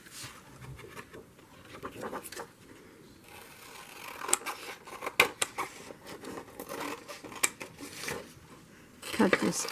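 Scissors snipping out a paper journaling card for a nature journal, with a run of quick, close, crisp cuts and small paper rustles.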